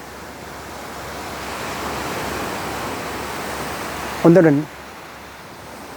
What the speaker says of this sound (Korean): 제주도 용머리 해안에 와서 잠시 저 파도 소리를 들으면서 상념에 잠겨봤습니다